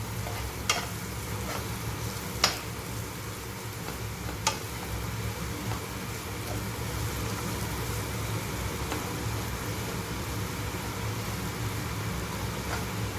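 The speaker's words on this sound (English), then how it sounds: "Add the lentil crumble, some haldi, and stir it well" Lentil crumble with turmeric being fried and stirred in hot oil for beans paruppu usili, a steady sizzle with a low rumbling undertone and a few sharp scrapes from the stirring spoon, no voices.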